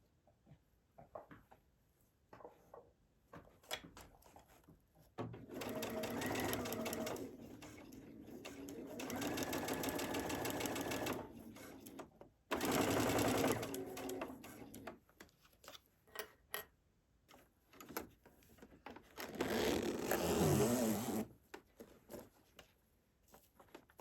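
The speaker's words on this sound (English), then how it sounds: "Now we're going to take it over to the sewing machine and stitch close to the zipper." A sewing machine stitches along the edge of a zipper on an overnight duffel bag, running in three close, steady bursts of rapid mechanical chatter separated by quieter pauses.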